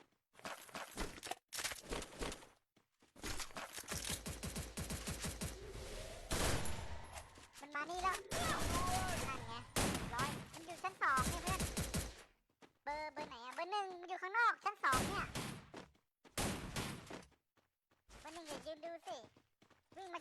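Gunfire crackles in Free Fire in repeated rapid bursts separated by short gaps, with other game effects mixed in and people talking over much of the action.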